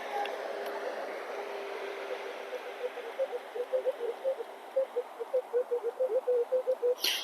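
A Minelab X-Terra Elite metal detector sounding its signal tone during a search for ancient finds, a run of short, evenly spaced beeps that repeat over background hiss, growing more frequent toward the end.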